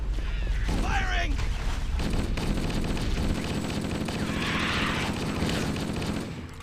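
Gunfire from the Halo CE video game in VR, sustained and loud throughout, with a mechanical rumble underneath and a brief voice early on.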